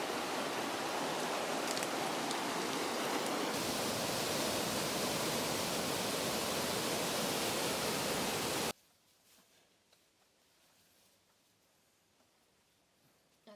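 Steady broadband roar of a waterfall pouring through steep rocky terrain with little canyons, loud and continuous for about nine seconds before cutting abruptly to quiet ambience.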